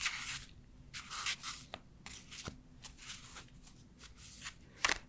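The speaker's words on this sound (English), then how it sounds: "shuffle your cards vertically?" Tarot cards shuffled close up in a quiet room, giving repeated soft riffling and rubbing bursts with brief taps, alone without talk.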